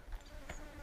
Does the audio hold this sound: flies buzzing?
yes